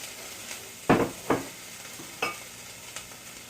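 Onion, pepper and broccoli in a pan give a soft sizzle, with a few sharp scraping clatters of stirring at irregular intervals.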